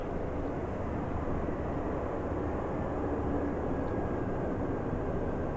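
Steady, loud broadband roar of a Pilatus PC-12NG turboprop rolling out on the runway after touchdown with power at idle, heard continuously from inside the aircraft with no talk.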